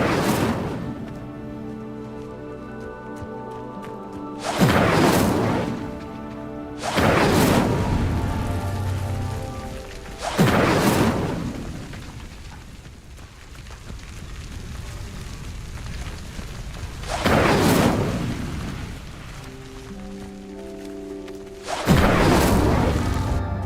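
The Incendio fire spell lights pyres in Hogwarts Legacy, and each cast lands as a loud, deep whooshing burst. Six of them come at irregular intervals, each trailing into a low rumble beneath a quieter game ambience.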